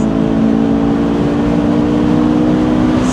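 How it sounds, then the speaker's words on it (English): A 2006 Honda S2000 engine revs hard in a lower gear as VTEC engages, a loud, steady high-rpm drone heard from inside the car with no talk over it. "You can also just downshift it, and then when the VTEC kicks, there it is."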